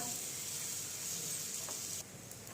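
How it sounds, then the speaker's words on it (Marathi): A chapati lies on a hot tawa griddle, giving a quiet, steady sizzle and hiss that drops a little near the end. "ती चपाती तव्यावरती टाकून घेऊया"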